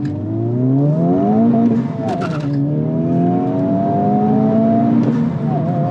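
A Honda Civic Type R accelerates hard, its engine note sweeping upward through rising harmonics as it climbs through the gears, loud and close from inside the car with continuous road and tire roar beneath.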